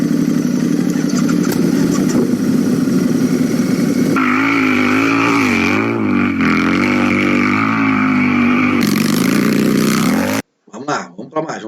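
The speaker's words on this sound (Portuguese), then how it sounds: "um som de moto, de Harley, né? Vamos botar." A Harley motorcycle engine as a sound effect, a loud low rumbling idle that throbs and revs in the middle, then cuts off abruptly, followed by a brief burst of speech.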